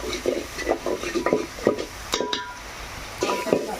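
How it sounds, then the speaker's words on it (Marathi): Spice masala for a homemade river crab curry sautéed in a pan, with a spoon scraping and clinking against the metal in uneven strokes over a soft sizzle. "आता व्यवस्थित नाही ना परतून घ्यायचे आणि मसाले आपले जळले नाही पाहिजे"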